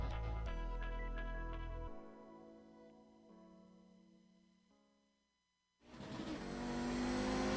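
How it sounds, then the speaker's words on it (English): An Audi GSRC race car on a lap of Road Atlanta, its engine revving loudly and shifting through falling tones, easing to near quiet before surging back hard at full throttle, with no talk. "we're in the GSRC Audi, so let's do a lap around Road Atlanta"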